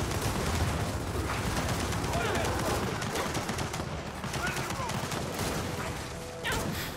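Sustained gunfire in a shooter video game aimed at an enemy turret, a continuous dense crackle of overlapping shots with no break, mixed with general battle noise.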